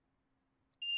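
A Class 350 electric train cab in Train Sim World 5 sounds a steady, high electronic warning beep. It starts abruptly near the end after near-silence and holds as a clear, sustained tone.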